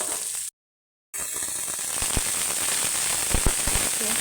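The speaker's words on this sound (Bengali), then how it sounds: "পেঁয়াজ রসুনটা ভেজে নিই।" Onion and garlic frying in oil for a home lunch fish dish: a steady close hiss of sizzling with a few soft pops, broken early by a brief gap of silence.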